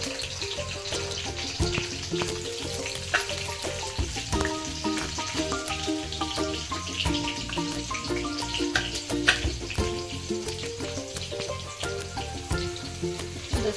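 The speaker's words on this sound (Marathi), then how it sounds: "हे बघा, तेल तापलेलं आहे. त्यामध्ये मी लसूण खोबऱ्याचं पेस्ट टाकते." Garlic and coconut paste frying in hot oil for a home-style egg masala, a dense crackling sizzle with popping spatters, steady and close throughout.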